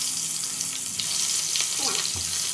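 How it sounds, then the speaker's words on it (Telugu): Eggplant pieces frying in the same oil used for onions beforehand, a constant bright sizzle with faint stirring clicks and a brief indistinct voice near the end. "ఇలా ఫ్రై చేసిన తర్వాత ఆనియన్స్ అన్ని తీసేసుకొని అదే ఆయిల్లో ఈ వంకాయలు ఏవైతే ఉన్నాయో మనం వేసేసుకుందాం"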